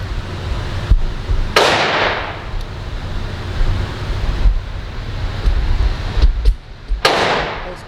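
Glock pistol shots at a shooting-practice range, three sharp loud bangs spaced a few seconds apart, each trailing off, over steady wind and outdoor background noise.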